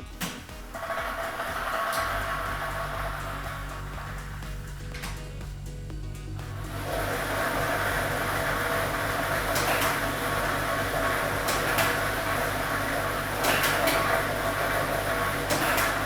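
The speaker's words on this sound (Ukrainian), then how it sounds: "І ми вмикаємо граємо лототрон." Lottery ball drawing machine running, a steady mechanical whir with a low hum that fills the whole span, light clatters of balls tumbling inside.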